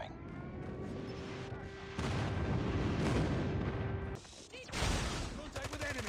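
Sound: airstrike explosions in a Call of Duty video game

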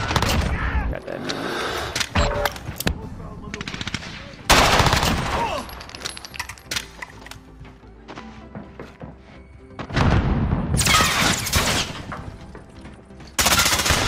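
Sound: gunfire in video game Modern Warfare

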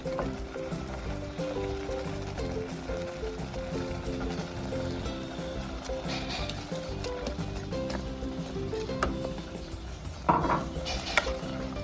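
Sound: pork being added to glass noodles in a pan

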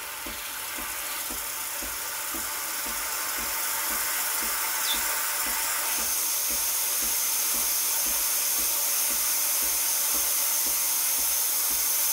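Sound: Breville Barista Express steam wand hissing

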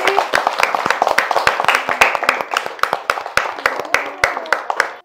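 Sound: clapping

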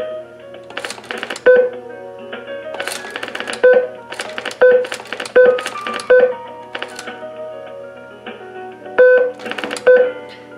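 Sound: telephone dialing tones from pulse-to-DTMF converter

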